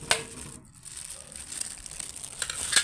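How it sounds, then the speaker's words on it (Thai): Minced pork mixture for Thai fermented sausage is squeezed and kneaded by hand, giving soft, close crinkling and squelching noises in an irregular rhythm with a few sharper crackles, quiet and with no talk. "ขยำเลยขยำให้เข้ากัน"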